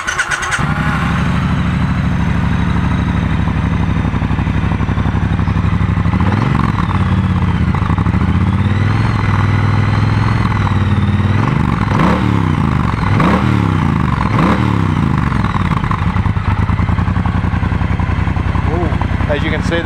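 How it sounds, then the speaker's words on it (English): A 2017 Triumph Bobber motorcycle engine runs steadily up close, with several sharp throttle blips rising and falling in pitch through the middle of the stretch, and talk sometimes over the engine note. "As you can see, the motor is very responsive. It's a nice note, even a standard."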